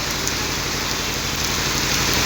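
Heavy rain pours down in a dense, continuous hiss of drops on surfaces, loud and unbroken throughout, with a faint low engine-like rumble beneath.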